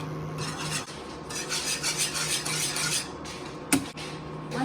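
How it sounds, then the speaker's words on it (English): Milk mixture thickening in a pan for fried milk cake, stirred continuously with scraping, rubbing strokes against the pan bottom and a brief clink near the end, close and steady, with no voices. "Once the milk gets hot, you can reduce the temperature and keep on mixing."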